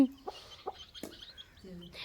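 A hen gives a few short, low clucks spaced apart, with faint high peeping from her chicks in the background.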